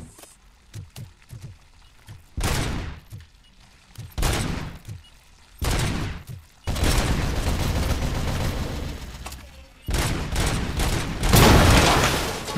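Bursts of turret fire in the video game RoboCop: Rogue City, several loud volleys separated by short gaps, the last stretches sustained and heavy.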